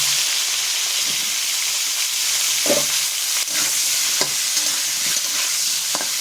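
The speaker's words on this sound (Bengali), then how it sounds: "দিয়ে দেবো ফুলকপিটা, নুন হলুদ মাখা, নুন আর হলুদটা দিয়ে এসেছি। এবার নাড়াচাড়া করলে মিশে যাবে।" Cauliflower coated in salt and turmeric sizzles and fries in a pan while a spoon stirs it, with a steady hiss and a few scraping stirs that stand out clearly.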